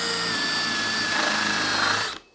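A hole saw bores into a wooden board to cut out a round jig wheel: a steady, loud grinding whine that holds evenly for about two seconds, then stops abruptly.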